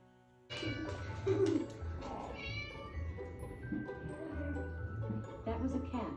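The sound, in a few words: cat meowing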